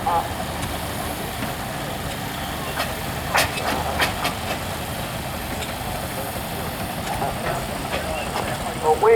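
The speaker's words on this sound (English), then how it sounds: "So it's an 8-ton steamer." An 8-ton steam traction engine runs in a show arena at The Broyle Country Show, giving a steady, close rumble with continuous hiss and occasional sharp clanks and ticks.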